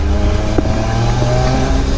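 Diesel truck engine in a sleeper GU rig revving while driving, a loud steady low rumble with a brief surge in the middle, heard from inside the cab with no talking.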